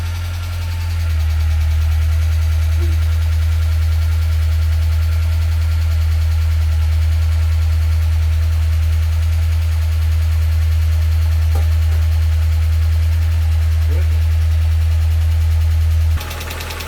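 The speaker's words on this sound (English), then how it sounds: "It's making a bit of a tapping noise, which seems to kind of be going away now." An Alfa Romeo Twin Spark engine idles after a cam belt replacement, a loud, steady low hum held close for about sixteen seconds, with faint light tapping above it before it cuts off near the end.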